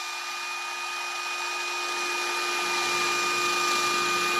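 A turned wooden piece is sanded on a running wood lathe, the motor hum and steady tonal whine giving way to a broad rising hiss of abrasive contact that thickens over the last couple of seconds, fairly close and continuous.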